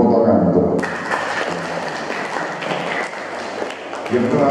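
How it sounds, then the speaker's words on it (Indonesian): Applause from a parish community gathering at a recollection retreat in Surabaya breaks out after a brief moment of talk, a steady patter of many hands clapping that continues to the end. "Tepuk tangan untuk"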